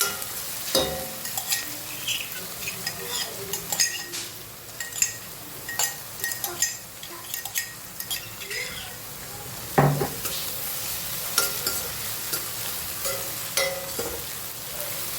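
Onions fry in a pan for a ringan bharthu, a steady sizzle broken by repeated spoon scrapes and clinks against the metal, close by, with a faint voice in the background.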